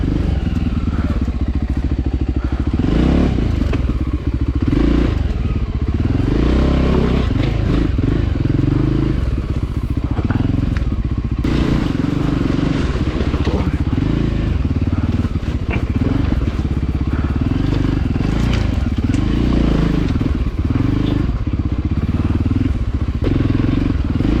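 A small motorcycle rides over a rough, closed gravel and pebble road, its engine droning loud and close throughout, with clattering, thumps and scraping as the tyres and chassis hit the stones.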